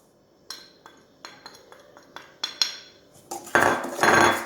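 A spoon clinks and scrapes against a pot while spices and grated garlic are stirred for Moroccan chicken with olives and lemon, a series of sharp metallic taps close by, then a louder, rougher stirring scrape at the end.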